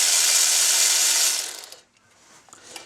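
Ratchet wrench loosening bolts during a water pump replacement on a 2004 Mercedes C320 4Matic, a loud continuous clicking ratchet burst close by, then fading to faint scattered clicks and tool taps.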